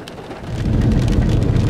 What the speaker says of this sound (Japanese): 雨が強くなりすぎてるよ、これ。